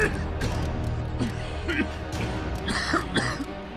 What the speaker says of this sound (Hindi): वो जोर जोर से खांसने लगा